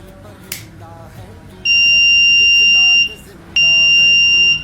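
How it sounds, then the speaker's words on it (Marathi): Buzzer on low-cost eye-closure alarm goggles built as a school science project sounds two loud, sustained, steady electronic tones separated by a short gap, with faint talk before the first. "डोळे बंद झाल्यावरतीच हा बझर वाजतो"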